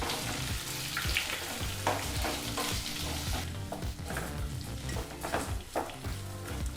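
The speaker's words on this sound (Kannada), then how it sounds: "ಈಗ ನಾವು ಚಿಕ್ಕದಾಗಿ ಕಟ್ ಮಾಡಿದಂಥ 4 ಈರುಳ್ಳಿನ ಬಾಣಲಿಗೆ ಸೇರಿಸಿ ಒಂದು 3 ರಿಂದ 4 ನಿಮಿಷಗಳ ಕಾಲ ಲೋ ಫ್ಲೇಮ್ ಅಥವಾ ಮೀಡಿಯಂ ಫ್ಲೇಮಲ್ಲಿ ಈರುಳ್ಳಿನ ಚೆನ್ನಾಗಿ ಫ್ರೈ ಮಾಡ್ಕೋಬೇಕು." Four finely chopped onions fry in a pan over low to medium flame for onion chutney, a busy sizzle mixed with stirring scrapes and clatter that grows slightly quieter partway through.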